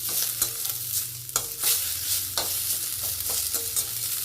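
Peppercorns and chillies for puliogare being stir-fried in a pan: a continuous oily sizzle with repeated quick spatula scrapes at an uneven rhythm, close and fairly loud, with no talking.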